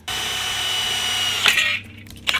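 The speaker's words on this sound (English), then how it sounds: "So I'm gonna drill this from the inside" A 1/4 inch power drill whirs steadily for over a second, then bites and stops, followed by a brief second burst.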